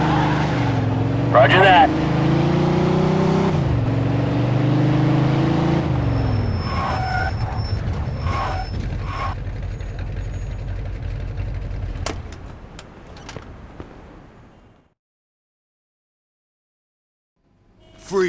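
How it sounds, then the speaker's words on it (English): A speeding car roars in a police pursuit in the video game Mafia II, its loud engine droning steadily under radio-style talk before cutting out into silence near the end. "In pursuit of a speeding vehicle."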